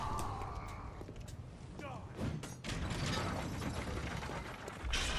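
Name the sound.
lever mechanism being pulled in video game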